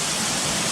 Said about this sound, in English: all these white water rapids going down towards where the bridge is